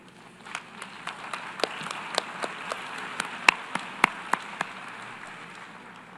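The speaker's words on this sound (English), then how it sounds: "maybe we have applause for all of the speakers again" Sparse, faint applause for speakers at the UN General Assembly, heard as a scattering of distinct individual handclaps over a quiet hall that thin out and stop.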